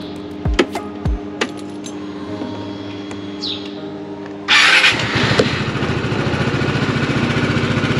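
A Vespa GTS 300 scooter engine, under repair for an oxygen sensor fault, starts up after a few clicks and light taps and settles into a loud, steady idle close by.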